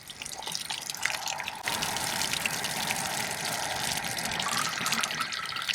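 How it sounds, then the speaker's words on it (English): Steady rush of water draining from an RV tank, a continuous broadband flow that swells after a brief start and holds at a constant moderate level, with occasional dripping splashes. "You'll begin to see water drain."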